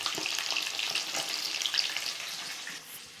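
Breadcrumb-coated chicken deep frying in oil until golden brown, a bright, even crackling sizzle with small pops that fades slightly at the end, no talking.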